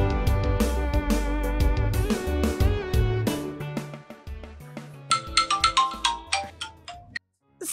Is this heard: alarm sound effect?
no